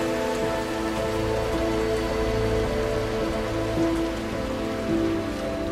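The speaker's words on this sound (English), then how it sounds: "It can rain constantly here for weeks at a time." Monsoon rain falls on Suncheon Bay in South Korea, a dense, steady patter of drops on surfaces with low sustained tones running beneath it, even in level throughout.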